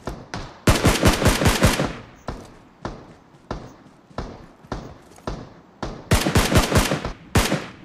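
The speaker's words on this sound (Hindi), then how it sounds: "और तभी पीछे से भाई बोट फायर," Bursts of automatic gunfire from bots in Battlegrounds Mobile India, loud rapid volleys alternating with single sharp shots, close and alone without talk.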